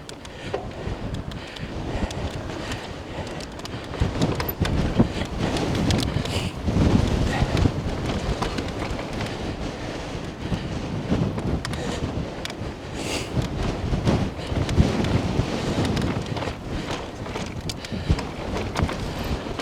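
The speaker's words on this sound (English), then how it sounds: "we're going straight into the wind now" Strong wind buffets the microphone while riding a mountain bike trail at Greenwood in Mount Pleasant, a loud, continuous roaring rumble with gusty surges throughout.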